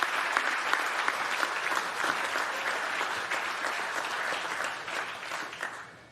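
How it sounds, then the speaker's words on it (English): An audience at an agricultural innovation awards ceremony applauds award winner Trust Systems, steady sustained clapping filling the room and gradually fading out. "What about a round of applause for Trust Systems?"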